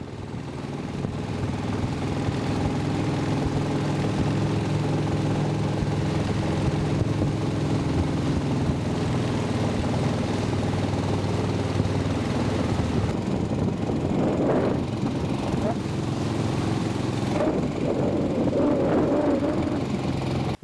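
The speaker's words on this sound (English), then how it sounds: "My buddy's going to arrive with the mudtail motor." A mud motor boat engine drones steadily throughout, a low continuous engine hum with some rougher, splashy bursts near the end.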